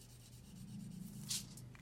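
Yellow crayon or marker rubbing back and forth on paper in a steady, soft scratching stroke, close and quiet, with no voices.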